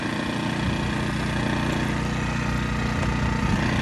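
A portable generator powering a Thor camper van runs steadily after starting, a loud continuous engine drone with a rough, even idle throughout and no voices.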